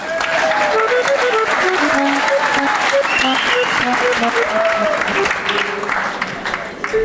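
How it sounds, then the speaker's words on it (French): Concert-hall audience at a silent-film cine-concert gives latecomers a sustained round of clapping, loud and even, tapering slightly near the end while a voice speaks over it. "Allez-y, encore un petit applaudissement, là, ils sont en retard."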